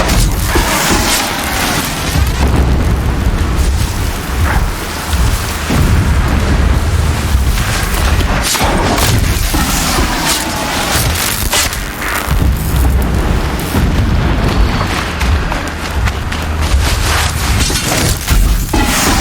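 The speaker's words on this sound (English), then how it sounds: "Explosions in the distance." Deep, rumbling explosions boom at a distance in Horizon Zero Dawn, a dense low roar with repeated heavy bursts rolling through the whole stretch, loud and continuous without any talk.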